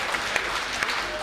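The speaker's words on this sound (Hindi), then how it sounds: "ताली बजाइए हाथ उठा के जोरदार।" An audience at a Hindi comic poetry gathering claps loudly in a brief, dense burst of applause from a crowd.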